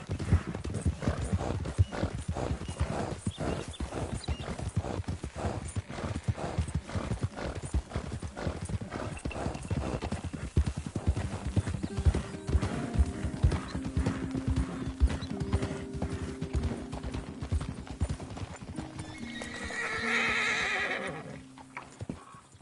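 Horse hooves clip-clopping steadily at a walk with neighing and whinnying in the western video game Red Dead Redemption 2, close and continuous, with a louder rumble near the end.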